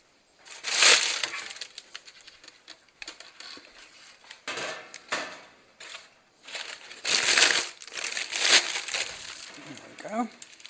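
A metal baking pan is fetched and handled in a home kitchen while cookies are made, with several bursts of clanking, scraping and rattling separated by quieter pauses, heard close up.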